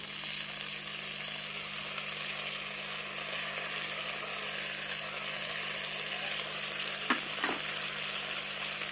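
Ground spice paste of garlic and onion hits hot oil in a pan, giving a steady, dense sizzle and crackle that fills the whole stretch, with a couple of brief clinks near the end and no voices.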